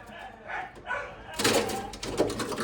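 A dog eagerly barks and whines for ice just taken from a home freezer, its short yelps coming in bursts at close range as voices talk over it.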